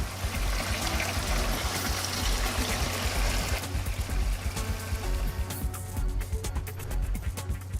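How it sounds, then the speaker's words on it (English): Water pours steadily from a computer-controlled dispenser into a concrete mix, a continuous rushing, trickling flow with rumbling machinery close by. "A computer-controlled dispenser adds just the right ratio of water to dry ingredients."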